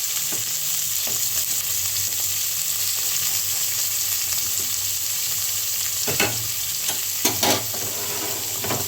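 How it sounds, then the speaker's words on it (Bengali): Chopped onion fries with cumin seeds in hot oil, making a continuous close sizzle. A few sharper scraping stirs come toward the end, and there is no talk. "জিরেটা ভাজা হলে সুন্দর একটা গন্ধ বেরিয়েছে, এটা দিয়ে দিলাম পেঁয়াজ"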